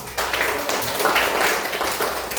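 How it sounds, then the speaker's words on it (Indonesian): A classroom of students applauds together during a teaching practice lesson, steady overlapping hand claps filling the room at moderate level for the full stretch without pause. "Tepuk tangan untuk kita semua."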